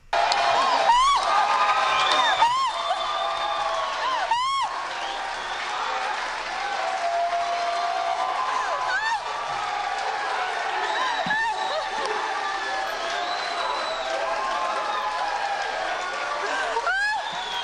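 An audience at the Oscars applauds and cheers an acceptance speech: sustained dense clapping with whoops and scattered shouts, loud and continuous throughout.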